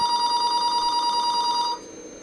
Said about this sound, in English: sorry about that, my phone was ringing there.